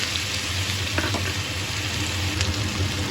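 Potato pieces frying in oil in a pan, a dense, even sizzle that runs steadily and close for a few seconds, with a couple of faint clinks and no talking.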